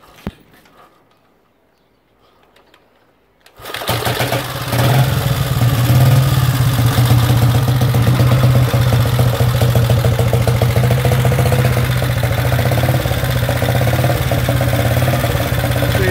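A 1931 AJS S12 250cc single-cylinder motorcycle fires up after a few quiet seconds and settles into a steady, loud, close running beat that holds throughout.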